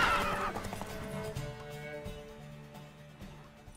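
A horse in The Witcher 3 game lets out a loud, clear neigh that tapers into a wavering whinny, with a few faint hoof clops and game ambience beneath.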